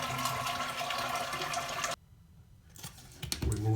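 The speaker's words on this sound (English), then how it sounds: "we're going to flush the toilet to just basically remove as much water as possible" A household toilet flushed during a flush-valve replacement, its rushing water loud for about two seconds, then cutting off abruptly and giving way to quieter trickling and gurgling refill.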